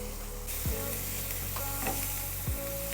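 Onions sautéing in a pan for a dosa filling, a loud, steady close-up sizzle with a couple of sharp stirring scrapes against the pan.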